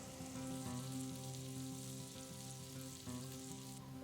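Pork loin sears in a hot pan, a steady, fairly quiet sizzle and crackle that holds evenly throughout with a faint hum beneath it.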